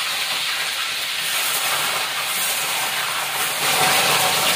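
Water spinach (kangkung) stir-frying in a pan gives off a steady, loud, hissing sizzle that swells slightly near the end, with no voices.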